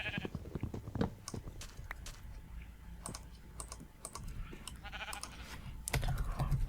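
Sheep bleating in the Minecraft video game, short bleats mixed with rapid keyboard typing clicks throughout, moderately loud and close.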